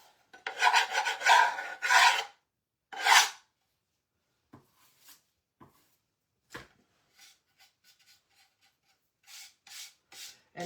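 Painted wood on an 8-inch square fall shelf sitter sanded by hand, several quick bursts of gritty rubbing early on, then sparse faint scuffs and pauses.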